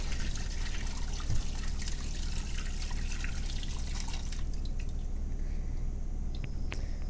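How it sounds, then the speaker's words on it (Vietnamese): Catfish being rinsed under running water in a kitchen, with steady trickling and splashing alongside soft squishy handling of the fish, close and continuous throughout. "Giờ mình rửa lại cho nó sạch nữa là xong nha các bạn."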